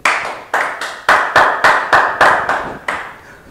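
A small audience claps in a vote for a coach, sounding as a series of about nine sharp, fairly loud bursts, each starting abruptly and decaying, roughly half a second apart.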